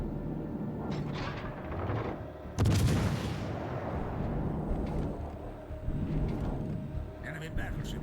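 Cruiser guns fire in World of Warships Legends, one heavy booming salvo standing out over a rumbling battle backdrop with further muffled thuds, and a voice speaks over it.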